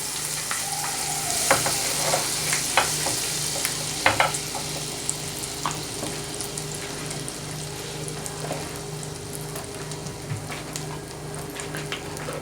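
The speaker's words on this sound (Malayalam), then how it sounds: "അതിന് വേണ്ടി ഞാൻ പാനിലേക്ക് കുറച്ച് ബട്ടർ ചേർത്ത് കൊടുത്തു." Butter melting and sizzling in a frying pan on a hot stove, a steady low crackle with occasional stirring scrapes and clinks, close by and with no talk.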